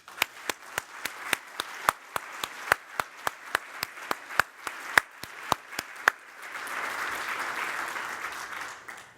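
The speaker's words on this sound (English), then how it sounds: "Please, join me in giving them a round of applause." An audience at a developer conference claps in a steady patter of distinct, evenly spaced claps, then the sound shifts into a broader, softer wash of applause toward the end.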